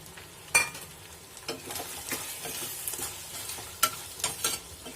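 Spicy Chinthamani chicken with chopped coconut is stirred in a sizzling pan: a soft continuous frying hiss with intermittent scraping strokes of the spoon, close and fairly quiet, with no talk.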